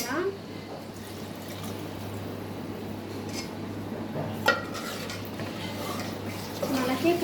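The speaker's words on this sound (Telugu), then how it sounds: "ఇట్లా ఇప్పుడు ఇందులో వాటర్ పోసుకున్నాం." Water being poured into a simmering okra tamarind stew with coriander powder, a steady continuous splashing pour heard close, with a few faint clinks of a pot near the end.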